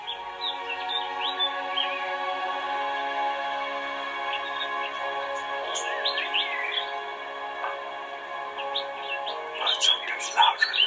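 Woodland birdsong on a walk, many small birds chirping and trilling in overlapping bursts at moderate distance against a quiet background, growing busier and louder toward the end.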